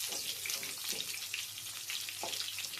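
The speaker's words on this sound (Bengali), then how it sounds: "সেই আলুটাকে আমি এটা ভালো করে ভেজে নেব।" Potatoes for a chicken dish fry steadily in hot oil, a dense continuous sizzle with occasional brief stirring scrapes, close and without talk.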